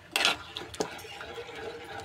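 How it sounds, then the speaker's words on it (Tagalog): A metal utensil scrapes and clinks against a pot while coconut milk stew with sardines is stirred, a sharp clatter at first, then softer scraping close by. "Haluin ulit natin mga idol."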